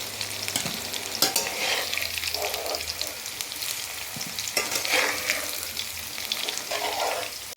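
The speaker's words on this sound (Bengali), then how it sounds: "আমার আলুগুলো ভাজা হয়ে গেছে, এবার আমি তুলে নিচ্ছি আলুগুলো সব।" Fried potatoes being lifted out of hot oil in a pan, with a continuous close sizzle and occasional spoon scrapes and clinks, loud and steady throughout with no talking.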